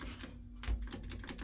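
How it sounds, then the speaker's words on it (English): A relay-type bumper in the pit of a Seaberg hydraulic elevator at 1400 Wantagh Ave gives a quick run of sharp, close mechanical clicks and clatters, with no voices. "It's like a relay one. Like a clicky bumper."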